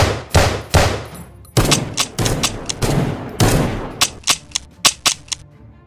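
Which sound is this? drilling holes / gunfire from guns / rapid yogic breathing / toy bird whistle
gunfire from guns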